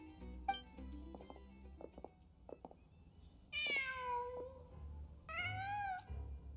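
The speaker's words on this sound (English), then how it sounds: "Just a cat." A cat meows twice in Genshin Impact, two clear, drawn-out cries a couple of seconds apart, preceded by soft clicks and small game sounds over a low hum.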